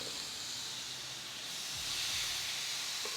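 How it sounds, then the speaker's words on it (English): Steady hissing sizzle of pork chops on a hot Ninja Woodfire grill, continuous and fairly loud, with faint low clanks underneath. "Gotta love that sizzle"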